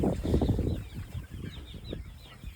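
Young egg-laying hens in a grassy broiler shelter cluck and chatter continuously, a close, busy flock sound with overlapping calls and some rustling.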